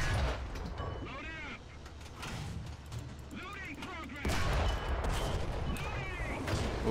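Tank cannon fire from an in-game battle in War Thunder, heavy booming shots and rumbling under someone talking over the action, with a louder burst partway through.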